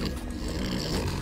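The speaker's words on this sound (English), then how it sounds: "Come on! Don't snore, you bastards!" Snowstalkers snoring while asleep in the video game Subnautica: Below Zero, a continuous low, rough, rumbling drone that stays steady and fairly loud throughout the short stretch.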